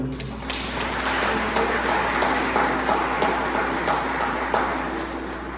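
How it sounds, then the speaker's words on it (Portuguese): A church congregation applauds during an evening worship service, a dense, steady wash of clapping that holds at an even level from start to finish with a few sharper claps standing out. "Você pode aplaudir o Senhor?"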